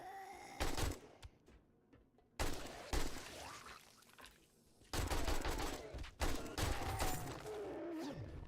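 Gunfire in the zombie survival game 7 Days to Die: loud, close bursts of rapid automatic shots in several volleys separated by brief quieter gaps, the last burst longest and most sustained.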